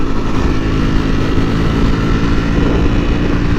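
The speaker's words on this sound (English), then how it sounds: "It's a girl on an R6. That's cool. That's a dope bike." A Yamaha R6 motorcycle passes in heavy traffic, its engine blending into a loud, continuous roar of surrounding vehicles and road noise with no clear gaps.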